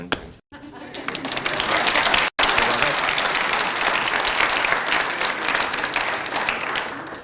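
Studio audience at a 1980 talk show bursts into sustained, loud applause with claps and crowd noise, broken by two brief dropouts.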